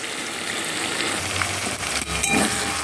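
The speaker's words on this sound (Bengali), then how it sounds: "আলুর সঙ্গে পেঁয়াজ টমেটো একসঙ্গে দিয়ে মাংসের জন্য কষিয়ে নিচ্ছি" Potatoes, onion and tomato, salted, sautéing together in a pan as the base for chicken curry: a steady close sizzle with faint stirring scrapes, and no one speaking.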